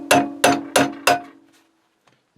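A screwdriver is struck against a rusted-in part on a Meier & Weichelt mobile workbench under restoration: four sharp metallic clangs at an even pace, each ringing briefly, close and loud, then a fading hum and silence.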